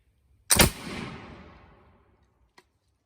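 A historical black powder gun fires once with a sharp, loud blast, and a long rumbling tail fades over about a second and a half, followed by a faint click.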